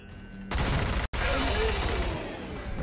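Gunfire in the video game Wasteland 3: a dense, loud burst of rapid shots erupts suddenly, breaks off for an instant, then rattles on for over a second before easing off.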